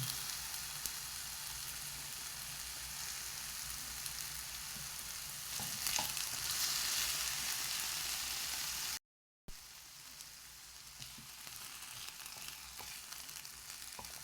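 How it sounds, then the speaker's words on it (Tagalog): Potato frying in a pan for a breakfast dish gives a continuous soft sizzle at low level, with occasional faint stirring scrapes and a brief dropout partway through. "Lutuin ko muna itong potato."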